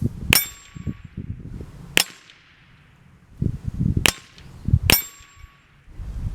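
An Iver Johnson Model X self-cocking safety rifle fires four sharp shots about 1.5 seconds apart, each crack ringing briefly with a metallic tail, between quieter handling clicks and rustles.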